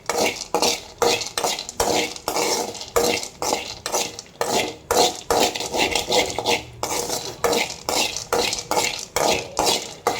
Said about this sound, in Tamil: இதை நல்லா போட்டு சாட்டோ பண்ணணும். அப்படி கலர் வந்து லைட்டாக பொன்னிறமாக மாறணும்.